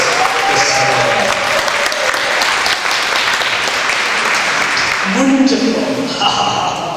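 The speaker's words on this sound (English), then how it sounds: "let's give Lucy a round of applause as she shares with us this morning" Sustained audience applause greets a keynote speaker at a Church of England conference, a loud, dense wash of clapping filling the whole stretch, with a few voices rising briefly near the end.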